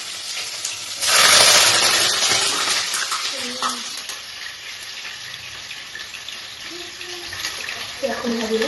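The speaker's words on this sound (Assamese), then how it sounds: "পিঁয়াজখিনি প্ৰথমতে ভাজি দিওঁ" Onions frying in hot oil in a home kitchen, a steady sizzling hiss that swells loudly near the start and then settles into a softer continuous crackle, with a few faint clinks and a voice speaking briefly near the end.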